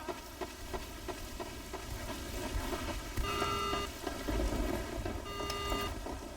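A continuous wash of rain noise in Team Fortress 2 with faint ticking drops, joined briefly by a couple of short electronic tones.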